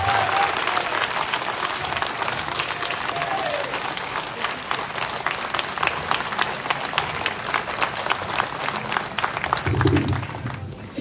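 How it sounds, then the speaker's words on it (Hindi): A large crowd at a political rally in Padra, Vadodara district, Gujarat, applauds steadily and loudly for about ten seconds, the clapping dense and continuous before fading at the end. "तो आप सब लोग तब तक तालियां बजाते रहिए जब तक ये माला उनके गले में ना पड़ जाए।"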